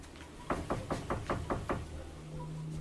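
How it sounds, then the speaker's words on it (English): Seven quick knocks on a house door, close and crisp in an even rhythm, followed by a quiet background hum. "We knock at the door."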